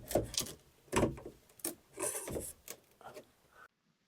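Wooden trim being pried off stapled RV bunks, a few creaking, scraping pulls of wood against wood and metal at close range, each lasting about half a second, ending in silence.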